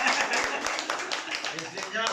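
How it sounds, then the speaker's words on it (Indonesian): Clapping from guests at a thanksgiving celebration for a daughter's graduation, a brief burst of hands heard under continuing talk. "Iya, tepuk tangan dulu."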